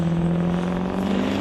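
A 1996 Ford F-150 diesel pickup builds revs in the lane at the start of an NHRA Summit ET bracket drag race, a steady loud engine drone with a strong tonal hum, no voices.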